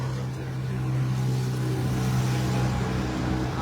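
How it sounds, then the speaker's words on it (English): A utility boat's motor drones steadily as it passes at a spinning-restaurant tourist spot, a low continuous hum with a strong tone that swells slightly mid-way, moderately near with wind and ambient noise and no talk. "Ayan yung utility boat."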